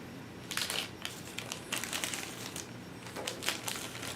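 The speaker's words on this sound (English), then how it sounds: "So take the plastic off." Plastic wrap being peeled off a Sideshow Collectibles Harley Quinn sixth scale figure, a steady run of close crinkling and crackling bursts with no voices.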